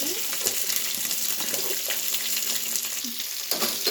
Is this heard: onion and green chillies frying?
yes